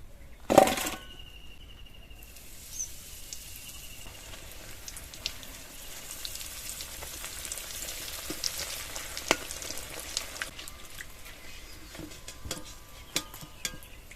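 Leftover roti rolls fry in hot oil in a pan, a soft continuous sizzle with a sharp clatter near the start and scattered small pops and crackles afterwards.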